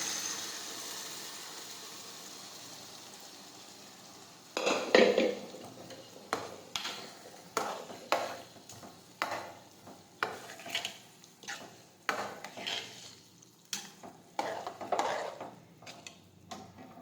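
Boiled urad dal tipped into a pan with a clatter, then stirred with a spoon scraping and knocking against the metal in a steady rhythm of roughly a dozen strokes, close and alone.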